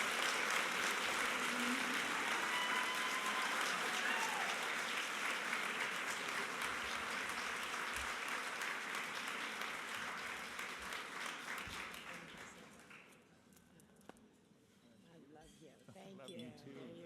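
Audience applause welcoming Maria Shriver at a Society for Women's Health Research award event, a steady crowd clapping that holds for about ten seconds then tapers off, with glasses clinking and voices emerging at the end.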